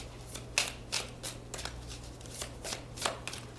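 Slippery tarot cards are shuffled in quick riffling bursts, a series of crisp, close flutters and snaps spaced unevenly over a steady low hum.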